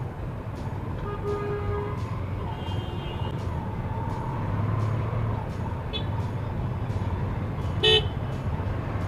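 Road traffic rumbles steadily as motorcycle taxi riders move through it, with short car horn toots scattered throughout and one sharper honk near the end.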